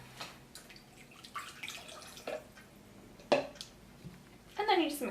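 Water is poured into a bowl of sugar for cinnamon candy apples, with splashy drips and clinks of kitchenware in scattered bursts, a stronger pour near the end, and a person talking throughout.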